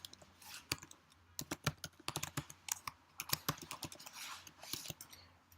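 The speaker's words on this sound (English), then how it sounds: "Just type in an email address." Quiet, close computer keyboard typing, a few seconds of irregular light key clicks while entering an email address.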